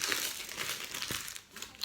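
Receipts and small paper slips being crumpled and crushed by hand after a grocery run, a close, continuous crinkling rustle with a few sharper crackles near the end.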